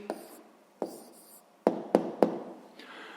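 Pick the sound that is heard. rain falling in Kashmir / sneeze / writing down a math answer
writing down a math answer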